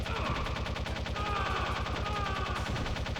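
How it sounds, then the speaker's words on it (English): Rapid, sustained automatic gunfire aimed at a doorway in the video game Metal Gear Solid, a steady loud stream of close shots with a game soundtrack underneath. "So just firing at the doorway."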